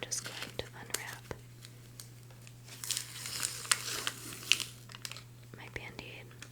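An adhesive bandage is peeled from its wrapper close to the microphone, giving soft crinkly rustles and small tearing crackles spread across several seconds, with faint whispering under a steady low hum.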